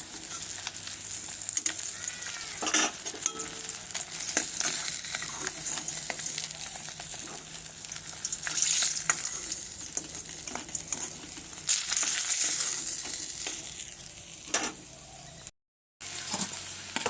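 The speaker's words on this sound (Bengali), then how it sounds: "মাছটা খুব বেশি ভাজবো না" Fish fries in a pan with a continuous close hiss of sizzling oil, marked by occasional sharp crackles and light utensil clicks, then a brief drop to silence near the end.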